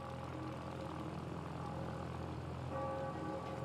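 A propeller aircraft flying over the vineyards of Saint-Émilion in Gironde gives a steady, even engine drone with no pauses, moderately distant.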